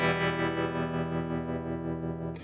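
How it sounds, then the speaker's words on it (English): Fender Mustang Micro headphone guitar amp on its vintage tremolo and reverb setting: a steady, held guitar chord with a gentle pulsing wobble, sustained evenly and alone, no talking. "Next, we've got the vintage tremolo and reverb."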